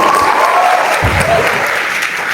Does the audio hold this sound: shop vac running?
no